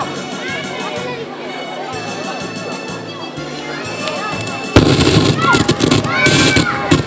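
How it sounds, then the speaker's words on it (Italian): Audience at a TV show breaks into loud applause partway through, clapping and cheering rising suddenly after a stretch of speech and continuing to the end. "C'è un applauso."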